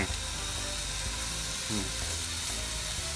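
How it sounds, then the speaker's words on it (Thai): Loud, continuous sizzling of beef tongue searing in a very hot pan, close up, with a brief clatter partway through. "พอกระทะร้อนมากๆนะครับ ผมจะใส่ลิ้นวัวลงไป"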